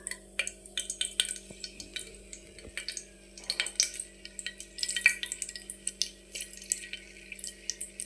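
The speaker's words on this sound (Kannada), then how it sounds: "ಇದು ಎಣ್ಣೆ ಒಳಗೆ ಸ್ವಲ್ಪ ಫ್ರೈ ಆಗಲಿ." Cardamom, cloves and bay leaf fry in oil for palak rice, giving a faint, steady crackle and sizzle with scattered small pops and light utensil clinks, close by and without talk.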